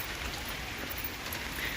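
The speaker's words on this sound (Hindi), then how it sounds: "आज दिन भर बारिश दे रहा है" Steady rain falling on a cold evening, a soft, even hiss of drops with no distinct rhythm, faint and continuous throughout.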